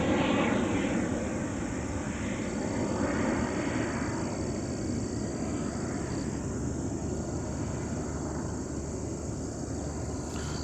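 An airplane passes overhead during plane spotting in Chattanooga, Tennessee, a loud, steady engine roar that drifts gradually in pitch across the stretch, with a high, thin whine above it and no talking.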